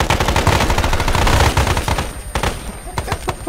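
Loud, close automatic gunfire answering a fire command: dense rapid bursts roll on for about two seconds, then thin into scattered separate shots.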